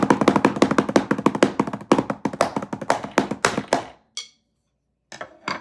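Sharp, rapid taps on a practice drum pad with its screws left loose, a dense run of close, even hits for about four seconds, then a pause and a couple of isolated taps near the end.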